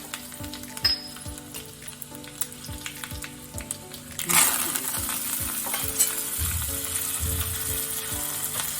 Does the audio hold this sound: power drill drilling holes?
no